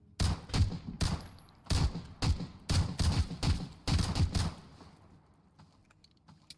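Several bursts of gunshots from a jam-prone gun in the video game Road to Vostok, loud and close, fired in quick clusters over about five seconds before fading into quiet.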